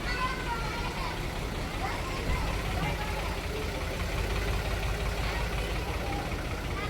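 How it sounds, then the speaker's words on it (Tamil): A tractor engine running on a village outing, a steady low mid-range rumble that stays constant throughout, heard close with people talking over it. "டிராக்டர் எடுத்தாச்சு."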